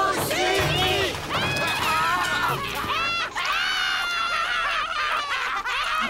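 A cartoon crowd of monsters and humans at a protest shouts, laughs and screams in a loud, constant jumble of high, excited voices throughout.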